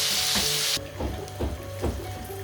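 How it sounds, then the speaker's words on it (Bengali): Chicken pieces deep frying in hot oil, a loud hiss at the start that drops to a softer steady sizzle with a few bubbling bursts, close and without talk. "আমি এগুলোকে ডুবো তেলে ভেজেছি।"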